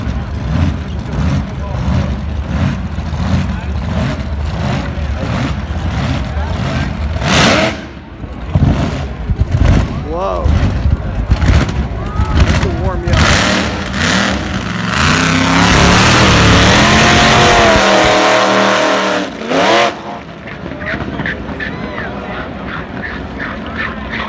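A wheelstander drag race car launches at a drag race, its engine roaring loudly and building to a sustained high-power surge, with an announcer talking over the noise.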